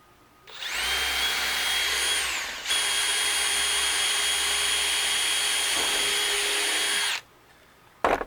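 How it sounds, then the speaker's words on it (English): A power drill whines at high speed into pallet wood, two sustained bursts with a brief dip between them, loud and close, then stops. "we're drilling this so that we don't split the wood"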